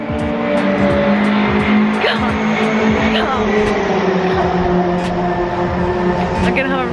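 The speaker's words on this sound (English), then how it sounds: "I need to stop being really excited every time a fast car goes by" Fast cars roaring past at a race track, loud engine whine with rising and falling passes and some tire noise, under excited talk.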